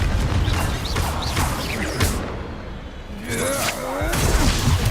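Repeated Confringo blasting spell explosions in Hogwarts Legacy, loud fiery bursts and crashes during a chaotic duel, with magical whooshes and a voice speaking between impacts.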